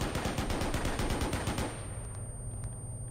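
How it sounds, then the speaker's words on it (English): Machine gun burst in the Arma 3 video game, a rapid run of about a dozen evenly spaced shots lasting under two seconds, loud and close, then fading into a low rumbling tail. "there's a little burst in our MG"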